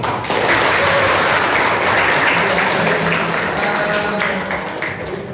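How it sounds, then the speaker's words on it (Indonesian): Loud, steady applause from students at a university nursing lecture, continuous clapping filling the whole stretch without pause. "Oke, tepuk tangan gitu."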